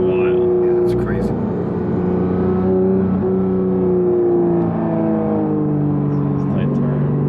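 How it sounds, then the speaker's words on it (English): A Porsche 911 GT3 of the 992 generation with a PDK gearbox drives along, its exhaust note loud and close, climbing and falling through rising rev sweeps, with voices talking over the engine. "Yeah, the sound from this exhaust is freaking wild."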